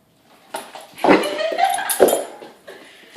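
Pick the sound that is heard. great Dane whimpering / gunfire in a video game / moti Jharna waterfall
great Dane whimpering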